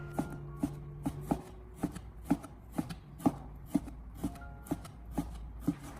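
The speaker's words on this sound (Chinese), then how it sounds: "我们先把瘦肉改刀切成小条，最后再改刀切小" A knife chops lean pork into small pieces on a cutting board, the blade striking in a steady run of about a dozen sharp, close, evenly spaced knocks.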